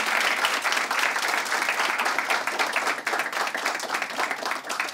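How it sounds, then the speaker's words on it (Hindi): An audience applauds at an interview event, dense, steady clapping from many hands that fills the whole stretch at close range with no pauses. "मैम के लिए एक बार जोरदार तालियां।"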